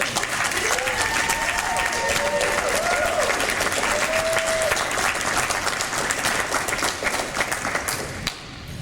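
Loud, sustained audience applause at a comic convention panel, steady clapping from a large crowd filling the whole stretch before tapering off at the very end.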